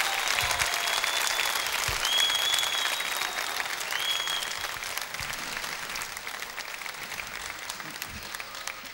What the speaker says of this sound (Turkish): alkışlara göre geleceksin